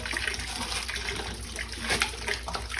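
Water drains from an opened whole-house water filter housing, a soft continuous trickle and gurgle heard at close range with no talking.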